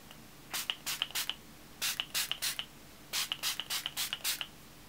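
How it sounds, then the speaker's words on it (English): A spray bottle of perfume spritzes in three quick bursts of short hissing puffs, each group of three to five sprays separated by brief pauses, close and moderately quiet. "So we will spritz this"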